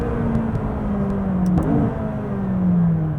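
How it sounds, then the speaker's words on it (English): A McLaren 570S turbocharged sports car engine drones steadily at close range, its pitch gliding and shifting as it revs, with no voices. "That's a turbocharged engine"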